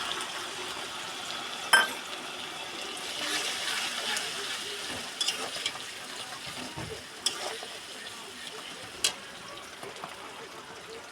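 Ground spices going into hot oil with onions already fried deep red, a steady low sizzle and spatter with a few sharp crackling bursts; someone speaks over it.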